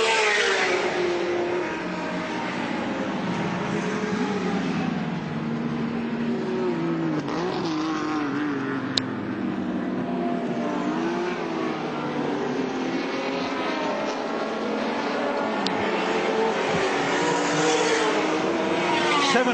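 Touring race cars, among them a Ford Capri V6, racing at Lakeside circuit in 1984: a steady, loud engine roar with rising and falling pitch as cars pass, continuous for the whole stretch with no talk.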